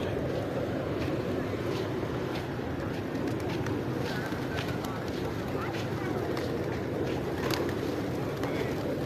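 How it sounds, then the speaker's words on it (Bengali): A large flock of pigeons by the sea in the Maldives coos and flutters amid steady outdoor ambience and distant background noise. "ওই যে দেখেন শুধু কবুতর আর কবুতর।"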